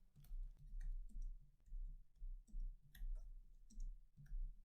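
Code being typed on a computer keyboard: soft, fairly close key clicks in uneven bursts with short pauses, no talking over them.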